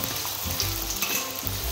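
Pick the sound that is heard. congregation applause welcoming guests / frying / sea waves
frying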